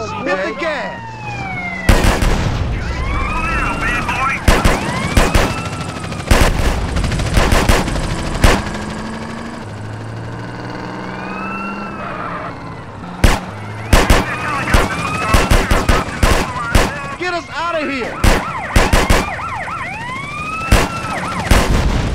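Drive-by shooting in GTA San Andreas from a Bravado Greenwood car, with repeated loud bursts of gunfire through a busy mix of sirens and street noise, coming in clusters with short lulls between them.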